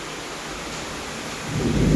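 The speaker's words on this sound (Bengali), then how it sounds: "প্রচণ্ড পরিমাণে বৃষ্টি হচ্ছে দুপুর থেকে" Heavy afternoon rain pours in a steady broadband hiss, and a deep thunder rumble swells loudly near the end.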